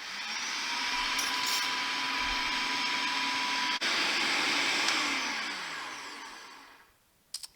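Electric mixer churning pineapple sorbet with lemon juice, a loud steady high whine held for about seven seconds, then winding down to silence with a couple of small clunks at the end.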